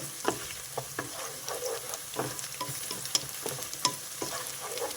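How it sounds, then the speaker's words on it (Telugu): Whole spices—bay leaf, a cinnamon stick, cardamom pods and cloves—are stirred through hot oil with fried onions for a garlic chicken curry, giving a steady sizzle broken by repeated clicks and scrapes of the spoon, close up with no voices. "ఒక బిర్యానీ ఆకు ఒక అరించు చెక్క ఒక రెండు ఇలాచి ఒక నాలుగు లవంగాయలు వేసి బాగా కలుపుకోవాలి"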